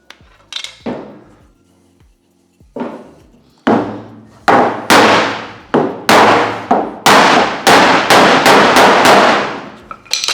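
Bare metal body panel on a Ford XC Falcon panel van being hammered, with a few tentative taps followed by a rapid run of loud, sharp ringing metallic blows, close and alone.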